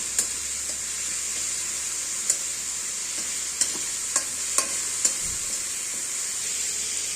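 Spices tempering in hot oil for biulir dal with a pinch of asafoetida, a bright steady sizzle close up, punctuated by a handful of sharp crackles and spoon clicks against the pan.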